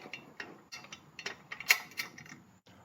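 Sump guard screws on a Royal Enfield Interceptor 650 tightened with an Allen wrench: a quiet series of irregular metallic ticks and clicks, close up and alone.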